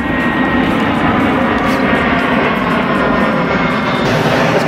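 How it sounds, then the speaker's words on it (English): A loud, steady airplane engine roar fills the clip, broad and rumbling, as an aircraft coming in to land on Kos, Greece passes close overhead. "Got a plane coming in."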